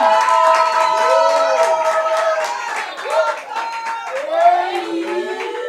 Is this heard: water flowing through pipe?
no